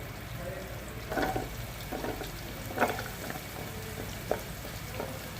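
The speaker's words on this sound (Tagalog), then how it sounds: "Kaya ilalagay na natin ang ating garlic." Garlic fries in melted fat in a pan, giving a steady, soft sizzle with a few brief stirring scrapes and one small clack; no talking is heard.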